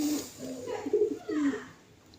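Pigeons coo nearby in a short, soft, throaty burble of a few rising and falling notes, with no other sound around them.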